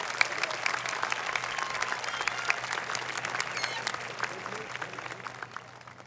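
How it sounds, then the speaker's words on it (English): A graduation ceremony audience applauds steadily, with dense, even clapping that fades gradually toward the end. "Let's give them one more round of applause."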